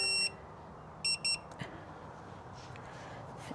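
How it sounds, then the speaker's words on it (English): A 4th-generation Toyota Tacoma gives a few short electronic beeps: one at the start, then a quick pair about a second later, clear against a quiet background. "Let me turn this off because it's going to start beeping."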